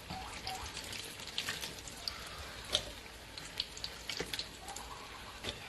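Hot grease being strained out of a pan while cooking sweet and sour chicken at home, a steady sizzling hiss scattered with crackles and drips.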